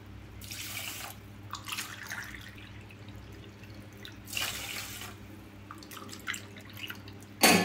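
Water pours into a cooking pot for ven pongal in a few short splashing bursts, separated by quieter gaps over a low steady hum.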